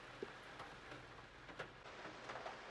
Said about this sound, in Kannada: ಗೈಸ್ ನೋಡಿ, ಫುಲ್ ಮಳೆ ಬರ್ತಾ ಇದೆ